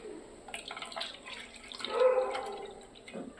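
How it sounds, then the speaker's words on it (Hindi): Water is poured out of a glass into a pot, giving a soft splashing, trickling pour that swells briefly in the middle and then tapers off, close and moderately quiet. "एक बर्तन ले लेंगे कोई भी और इस पानी को हम इसमें इस तरह से निकाल देंगे"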